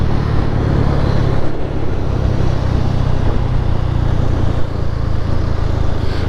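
Bajaj Pulsar N250 motorcycle, a 2026 model, accelerating through city traffic: a steady, loud engine drone with a low rumble and rushing road and wind noise throughout.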